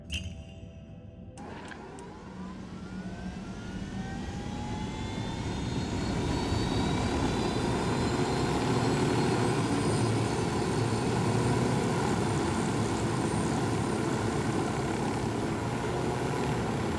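Helicopter in the video game Ghost Recon Wildlands, a steady broadband rotor-and-engine roar that swells after a brief quieter start and holds loud and continuous, with a faint high whine above it; no talking.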